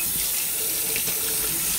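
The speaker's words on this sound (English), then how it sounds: "Put some water in there." Tap water runs steadily into a kitchen sink during dinner prep, a continuous close splashing hiss filling the basin with no talking.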